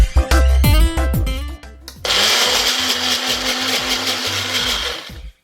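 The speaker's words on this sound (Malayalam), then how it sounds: "വെളുത്തുള്ളിയും സമാസമം എടുത്തിട്ട് ഒന്ന് ഗ്രൈൻഡ് ചെയ്തെടുക്കുകയാണ്" A mixer grinder grinds equal amounts of ginger and garlic into a paste. Brief stop-start bursts open the clip, then a steady whirring runs from about two seconds until it cuts off just before the end.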